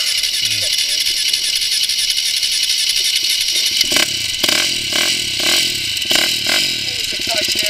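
A KTM motorcycle engine stalls; steady broadband noise gives way to a rhythmic clatter of pulses from about four seconds on, heard close and loud, with people talking over it.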